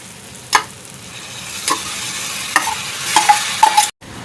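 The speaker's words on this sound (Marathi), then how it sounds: "गॅसची फ्लेम वाढवून आपल्याला पहिलं कांदा टोमॅटो बरोबर हे सोया चंक्स परतून घेऊया" Soya chunks with onion, tomato and marinated vegetables sauté over a raised gas flame in a kadai: a steady sizzle runs throughout, broken by several sharp spatula scrapes and clacks against the metal.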